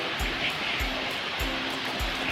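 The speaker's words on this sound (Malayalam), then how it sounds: "ഇവിടെ വെള്ളച്ചാട്ടം ഉണ്ട് ഗൈസ്." Steady broadband rush of falling water fills the scene, with soft rhythmic thumps like footsteps every half second or so.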